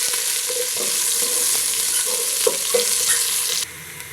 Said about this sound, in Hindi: प्याज और इसको मैंने बारीक स्लाइस में काट लिया है और इसे हम इसे फ्राई कर लेते हैं।